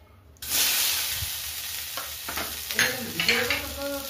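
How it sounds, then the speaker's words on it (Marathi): Cut okra (bhindi) hits a hot pan for masala bhindi and bursts into loud, close sizzling that keeps going, with the scrape and clatter of stirring over it. "तर आपण तिला थोडंसं फ्राय करून घेणार आहे"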